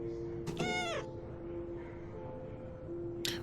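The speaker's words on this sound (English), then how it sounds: "So this is how a cat looks." A cat in the video game Everyday Devil gives a clear, close meow, with a short second meow at the end, over a faint steady background tone.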